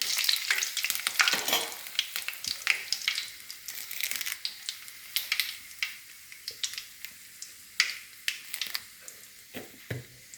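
Chilies fry in hot oil, crackling and spitting in close, busy bursts with popping and stirring sounds, loud at first and then settling into rhythmic sizzles, with no talk.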